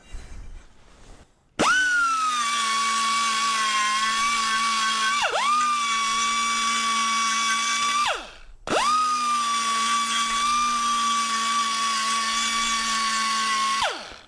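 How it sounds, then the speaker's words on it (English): A die grinder fitted with a sponge pad smooths a valve cover mating surface. It gives a loud, steady high whine that runs in three long bursts, each starting with a quick spin-up and ending in a brief drop-off. "I'm gonna just get it with a little die grinder action with a pad on it and smooth this out."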